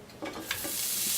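Lightlife and Beyond Meat plant-based ground being sautéed in a pan, with a short burst of soft sizzling and stirring scrapes that grow slightly louder toward the end.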